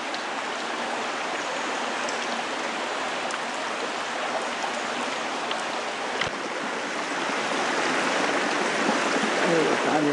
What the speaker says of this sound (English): We just found a waterfall